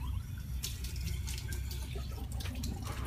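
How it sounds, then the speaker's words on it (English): A dental bite registration is rinsed under running water, producing a steady, fairly quiet stream with small splashes throughout. "So we're going to rinse this off a little bit."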